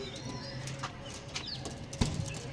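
Pigeons of several breeds, Andhra red, kalshira and Chennai green, coo softly at close range while a sudden burst of wing flapping breaks in near the end, with light chirps scattered throughout.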